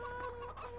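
Chicken clucking from the farming game Farming Simulator 15: short, soft clucks over a steady background hum, faint and close, with no talk.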